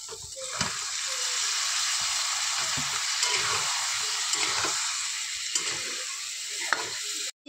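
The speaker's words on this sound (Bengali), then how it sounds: "মশলা কষিয়ে নেব নাড়াচাড়া করে" Ground spices, chili powder and other masala frying and being stirred in a pan for a broiler chicken and local bean curry, a steady close sizzle with scattered scraping stirs, no talk.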